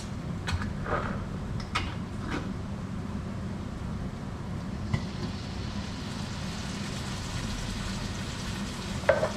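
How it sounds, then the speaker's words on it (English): A tin of diced tomatoes goes into a sizzling pan of butter chicken, steady frying hiss throughout with a few sharp clinks near the start and end. "The next stage is to add our tin of diced tomatoes."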